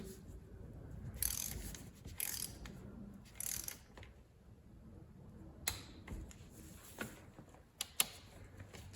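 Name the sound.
tightening VW swing axle bolts in crisscross pattern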